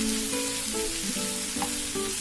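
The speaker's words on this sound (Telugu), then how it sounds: "మనకి దొండకాయ బాగా ఫ్రై అయిపోయింది. మనము కొబ్బరి, వెల్లుల్లి, కారం వేసుకున్నాము." Tindora fried with garlic, coconut and chili powder sizzles in a pan, with a continuous close hiss and a few light stirring scrapes over a low hum.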